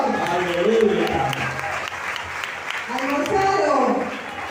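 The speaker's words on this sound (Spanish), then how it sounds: "Dale un aplauso al Señor" Congregation at a prosperity retreat led by a preacher applauding for the Lord, a steady wash of clapping mixed with voices over about four seconds.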